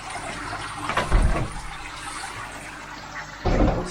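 Water refills a tank or basin, steady rushing and gurgling with bubbling surges, close and fairly loud, with occasional bumps and knocks and no talk.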